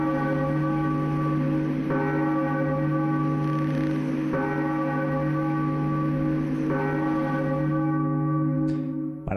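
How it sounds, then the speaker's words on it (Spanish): Church-like bell tolling in The Legend of Zelda: The Wind Waker, steady sustained ringing with fresh strikes roughly every two to three seconds over a constant low drone, loud and alone, cutting off abruptly at the end. "¿Qué es esa campana?"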